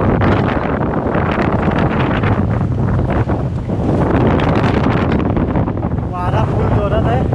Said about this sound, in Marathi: वारा फुल जोरात आहे.